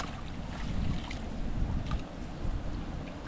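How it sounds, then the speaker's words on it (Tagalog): Strong wind gusts buffet across open water from a small boat out on a wide, lake-like expanse, a steady low rumbling roar with rising and falling surges and no voices. "Palakas ng hangin."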